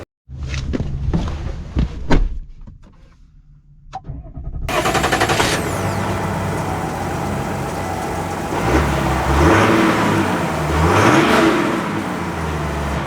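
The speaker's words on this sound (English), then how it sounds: "let's set off in the diesel Trail Boss" A 2025 Chevy Silverado Trail Boss pickup with a Duramax diesel engine starts off after a few clicks and thumps, its engine rising into a steady loud drive with shifting revs and road noise.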